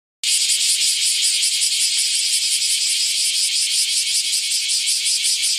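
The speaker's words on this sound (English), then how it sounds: "One of the perhaps most defining characteristics of cicadas is their ability to make loud, sustained calls to one another." Cicadas give a loud, sustained buzzing call that starts abruptly and holds steady and shrill throughout, with a faint pulsing texture and nothing else heard.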